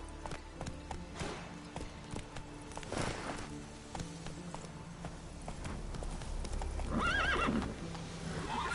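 Roach, a horse in a video game, gallops with steady clip-clopping hoofbeats and lets out a whinny, close and moderately loud under a game soundscape.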